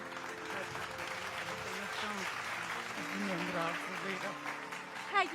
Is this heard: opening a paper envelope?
no